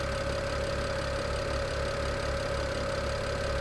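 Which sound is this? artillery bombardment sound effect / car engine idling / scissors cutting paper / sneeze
car engine idling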